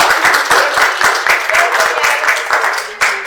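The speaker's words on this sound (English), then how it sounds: "Please, let's acknowledge with a round of applause Maricopa Library Director Angela Howell" A lecture audience gives a round of applause, dense, brisk clapping from many hands that stays loud and even, easing slightly near the end before a fresh burst.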